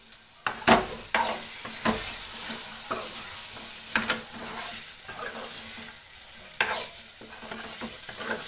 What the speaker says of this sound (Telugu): ఇప్పుడు మనం మూత తీసి మొత్తం కలుపుకొని స్టవ్ ఆఫ్ చేసుకుందాం.